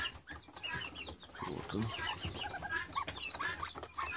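Chukar partridge clucking in a large cage alongside pheasants, busy close-up clucks and chattering calls over a noisy background, with someone briefly speaking.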